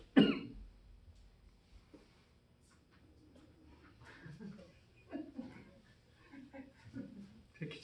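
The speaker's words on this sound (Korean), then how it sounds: "기침을 3번 했을 뿐인데 다들 웃으시죠?" A sharp cough sounds right at the start, then someone talks quietly in a large church hall.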